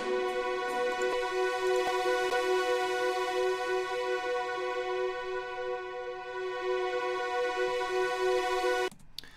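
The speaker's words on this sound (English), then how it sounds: "then we have also some kind of like synth runs from the Oberheim synth," Sustained synth runs from an Oberheim synthesizer in a beat, a steady harmonic-rich tone held nearly ten seconds at even loudness before cutting off abruptly near the end, with no voices.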